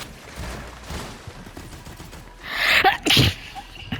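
A single loud sneeze bursts out close to the mic during a Fortnite game voice chat, with a sharp follow-up burst after a quiet stretch of background room noise.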